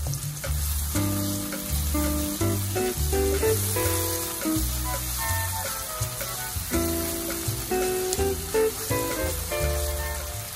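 A bopis mixture sizzles steadily in a pan right after fish sauce goes in, a dense, close crackling fry that keeps going throughout with slight stirring movement.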